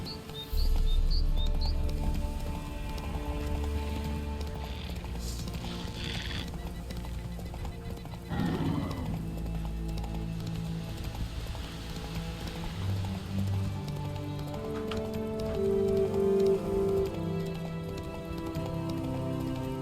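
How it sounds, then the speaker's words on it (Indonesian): In The Witcher, a horse's hooves clip-clop in a steady trotting rhythm under game music, with a whinny near the start and a louder crunch of movement midway. "Kuda-kuda."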